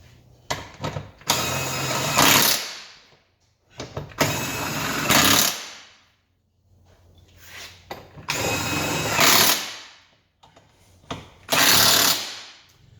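Power tool bursts tightening subframe bolts on an Alfa Romeo 147, 156 or GT during rear transverse arm replacement, four loud whirring runs of about two seconds each separated by short pauses, close by, no talk.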